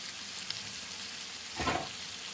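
Marinated chicken sautés in a pan, drying out as it cooks: an even close sizzle with one brief louder stirring burst near the end, and no talk.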